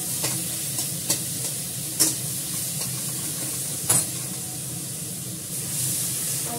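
Tomatoes cooking in a pan with water added, a steady, hissing sizzle and bubbling close by, broken by a few sharp spoon clicks and scrapes, with no voices.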